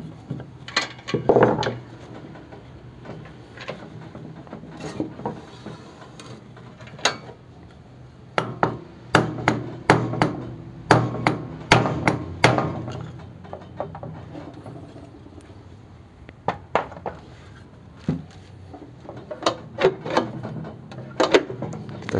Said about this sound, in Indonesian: Nggak ada palu karet. Nah, pakai kayu saja gini.